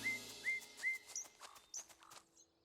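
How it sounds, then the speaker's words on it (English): A cartoon nightingale sings a series of short, bright whistled chirps and rising tweets, followed by a few lower trills. The song is clear and fairly close, with no talking. "I really wanted to hear the little nightingale sing."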